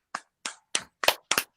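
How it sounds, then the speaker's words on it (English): Six sharp, separate handclaps in an even, unhurried rhythm, close and fairly loud, each ringing briefly before the next. It sounds like a single person clapping alone during a Friday night livestream, with no talk over it. "Round of applause"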